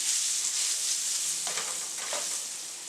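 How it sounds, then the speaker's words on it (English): Chopped onions sizzling in oil in a pot as aromatics for a Creole-style Caribbean stew, a steady loud frying hiss with a couple of brief stirring scrapes partway through, no voices. "We're going to add our aromatics, chopped onions"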